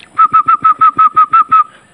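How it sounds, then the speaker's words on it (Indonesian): Nine short, evenly spaced human whistles sound in a steady rhythm on one clear pitch in a forest, each blast loud and close, followed by quiet. "nanti kalau saya membuat siulan ya tiga atau empat kali"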